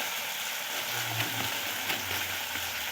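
Ground spices, turmeric among them, fry in hot oil in a pan for a cabbage and egg dish, a constant soft sizzle and crackle with faint low hum underneath and no talking.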